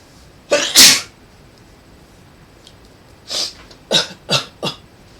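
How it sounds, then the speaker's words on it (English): A sharp double sneeze up close, followed after a pause by a cluster of four quick, breathy sneezes or snorts. "I gotta sneeze."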